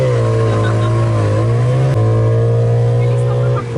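Thai tuk-tuk, a motorbike pulling a pedicab-style cab, speeding up with a loud, steady close engine drone whose pitch climbs slightly. Voices are heard alongside the engine.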